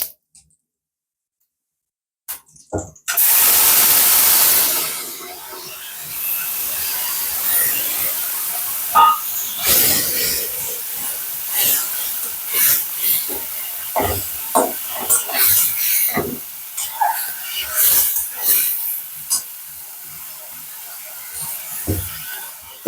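Cumin seeds and spice paste hit hot oil in a Bengali home kitchen, a loud hiss bursting in after near silence, then fading into scattered crackles, clinks and scraping.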